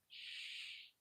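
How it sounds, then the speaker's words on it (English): Birds outdoors give a single faint, high-pitched call or chirp lasting about a second, steady and distant in a quiet setting, with no talking. "For me, that's the birds outside."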